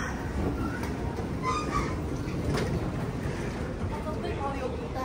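A train gives a continuous, even rumble and rattle that fills the whole stretch, with faint voices talking underneath.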